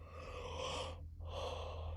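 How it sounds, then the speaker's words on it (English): A single yawn, a long breathy inhale and exhale with a short pause in the middle, close and fairly quiet over a low steady background hum. "Had to yawn again."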